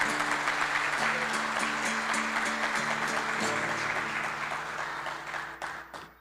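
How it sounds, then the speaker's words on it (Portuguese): Audience applause at a solemn council session in Passo Fundo honoring the local Federal Police station, dense steady clapping filling the room for about six seconds over a faint sustained tone, thinning out at the very end. "As palmas eu gosto."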